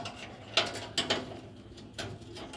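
An anti-theft locking cap being fitted and locked on a truck fuel tank, giving a few sharp metallic clicks and ratcheting snaps, close and fairly quiet, with short pauses between them.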